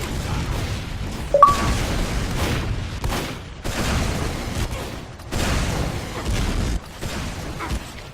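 Rockets from Team Fortress 2 soldiers boom and pop repeatedly through a busy competitive match, a dense run of blasts layered over constant game noise, with no talking.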